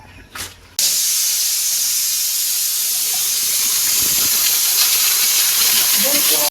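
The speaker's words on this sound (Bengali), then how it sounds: "এই যে প্রেসার কুকারে সিটি দেওয়া হয়ে গেছে, এইটা হলো লাস্ট সিটি।" A pressure cooker whistles on the stove while beef cooks, a loud sustained hiss of escaping steam that bursts on suddenly after a brief faint noise and holds steady to the end.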